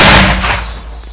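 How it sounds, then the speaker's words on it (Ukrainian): A single loud, booming mortar shot goes off close by on a Ukrainian frontline position, its heavy blast trailing into a brief rumbling echo. "Постріл!"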